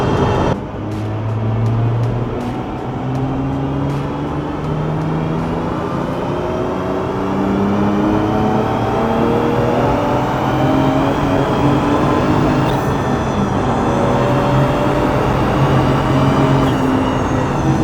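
A 600hp forged, turbocharged BMW E30 pulling hard in 4th gear, one long loud climbing engine note with turbo whine, heard from inside the car for about eighteen seconds with no talk.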